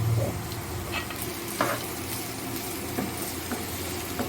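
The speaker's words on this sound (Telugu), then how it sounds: "ఒకసారి బాగా కలుపుకుందాం" Fresh prawns frying in a pan while being stirred, a low continuous sizzle with occasional light scrapes of the spoon against the pan, quiet and steady throughout.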